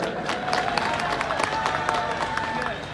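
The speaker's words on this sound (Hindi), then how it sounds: "एक बार ताली तो बजा दो यार" Crowd clapping at an outdoor political event where Delhi's Chief Minister Arvind Kejriwal inaugurates development works in Mangolpuri, a steady wash of applause with scattered sharper claps, fairly loud and continuous throughout.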